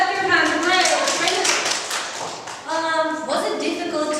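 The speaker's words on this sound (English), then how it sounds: "Clap your hands." Audience clapping hands in a classroom-style workshop, a close burst of applause that eases briefly and then picks up again, with voices mixed in.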